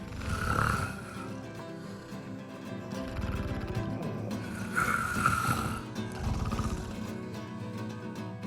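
Several people snoring at night in a pilgrims' hostel dormitory on the Camino Norte, with slow rasping breaths repeating in cycles, some loud and close and others softer, and no talking.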